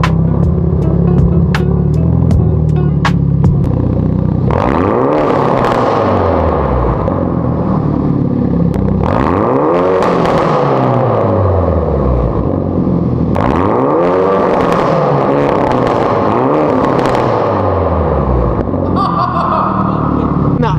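A Hyundai Elantra N with a Sxth Element valved titanium exhaust revs hard several times, each loud rising roar sweeping up then falling back to a rumbling idle, very close.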